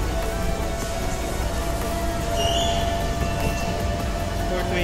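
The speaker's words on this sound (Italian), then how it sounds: "Ayun yung treno." A passing train produces a steady, loud broadband rumble with faint whining tones running through it for the whole stretch, and no one talks over it.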